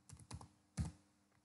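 A few quick keystrokes on a computer keyboard while a project name is entered in the Eclipse IDE, a short cluster of taps followed by one louder press, close and alone.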